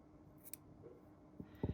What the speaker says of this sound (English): And then what I'm going to do is I'm going to snip it in half.